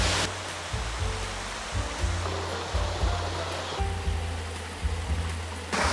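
A small multi-tiered waterfall in a country park, splashing water heard as a steady, close broadband rush with slight surges, alone without talk.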